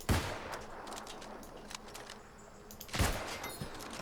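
Gunshots ring out in the fantasy online game New World, two sharp reports about three seconds apart with fainter crackling between them, heard without talk.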